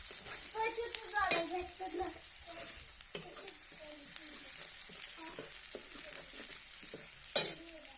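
Green chilies fry in a hot pan for a dish made from leftover chapatis, a steady close sizzle broken by stirring scrapes and a few sharp utensil clinks.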